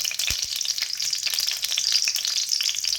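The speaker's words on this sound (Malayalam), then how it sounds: "എടുത്തു വെച്ച മൂന്നല്ലി വെളുത്തുള്ളി ചെറുതായിട്ട് അരിഞ്ഞത് ഇതിലേക്ക് ചേർക്കാം" Three cloves of finely chopped garlic sizzling in hot oil over a high flame, a dense continuous crackling fry with a couple of soft low knocks near the start, close and steady.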